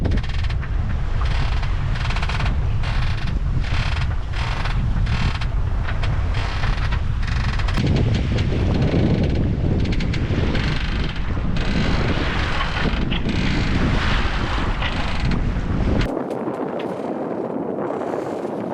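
Strong wind roars across a sailboat beating upwind on a rough passage, a constant loud rush and buffeting against the microphone with faint rigging creaks, easing abruptly near the end.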